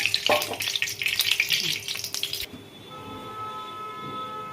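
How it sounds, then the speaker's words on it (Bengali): White cooking oil heats in a pan for frying soybean balls, giving a steady broadband sizzle and crackle for the first half that then settles into a quieter, even hiss with a faint tonal hum underneath. "ভাজার জন্য আমি সাদা তেল দিলাম"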